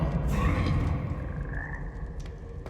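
Frogs croaking in the video game Hogwarts Legacy, a steady dense low chorus filling the background throughout, with a brief higher call or two rising above it.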